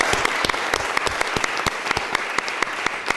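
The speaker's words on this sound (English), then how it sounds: "please join me in recognizing and giving applause to Mr. Jack Colburn for his service" Steady applause from a city Board of Supervisors meeting honouring a retiring official, with many hands clapping close and continuous throughout.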